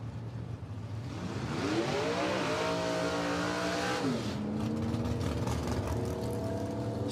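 A turbocharged drag race car does a burnout at the dragway, its engine revving up sharply, dipping, then holding a loud, raspy roar close by with no talk.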